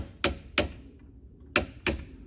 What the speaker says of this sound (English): Get the hammer. Hit it again.